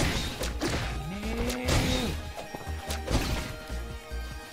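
Purple slime monsters being smashed in The Adventure Pals, a run of wet, punchy thwacks and crashes mixed with swooshes and bright game tones, fairly busy and close.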